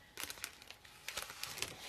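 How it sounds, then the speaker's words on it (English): Cellophane wrapping is ripped and crinkled off a cross stitch pattern in a few quick, soft crackling bursts close by. "I'll rip that cellophane."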